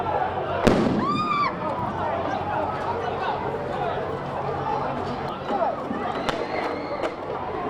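Fireworks pop and crackle during a street protest in Brockton, scattered bursts with whistling rising streaks over a steady roar of crowd noise and chatter, heard from a moderate distance.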